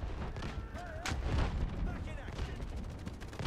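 An artillery barrage in the video game Delta Force: Hawk Ops rumbles as continuous low booms and gunfire beneath a dense battle wash, with brief whistling tones and voices mixed in.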